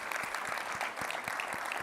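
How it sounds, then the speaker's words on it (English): A conference audience applauds at a Microsoft developer session on .NET Aspire and Visual Studio, with dense, steady clapping that holds at an even level throughout and no voices over it. "Please give our friends in the AZD team a huge round of applause."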